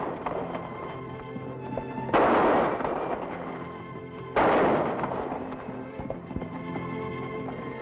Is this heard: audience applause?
no